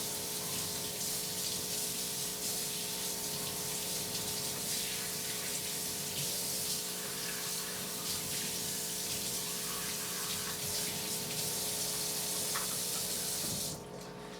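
A tap runs steadily into a sink as Aeropress coffee maker parts are rinsed, a continuous close splashing stream with a constant pump-like hum underneath, cutting off just before the end.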